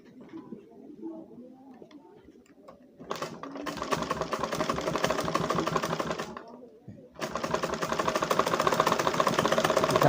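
A sewing machine stitches a coat's wallet pocket in two bursts of rapid, close, rhythmic clatter separated by a short pause, after a quiet opening with faint background sounds.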